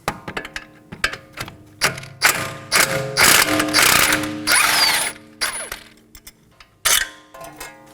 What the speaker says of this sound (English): I'm going to support one side with a wrench and remove the other side with a socket.